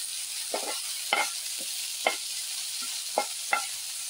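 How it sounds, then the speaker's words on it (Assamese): Fish frying in a little hot oil in a pan, a continuous soft sizzle broken by about half a dozen short scraping stirs or turns, close and moderately loud with no talking. "গৰম হৈছে, তাতে মই মাছটো দি দিছোঁ।"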